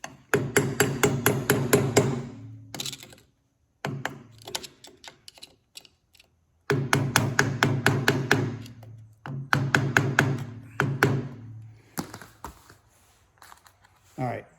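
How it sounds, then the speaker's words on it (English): Sharp metallic taps in quick bursts, a run of light hammer strikes close by on a brake locking tab of a VW Beetle, pausing and resuming several times. "Let me see if I can just hammer this one."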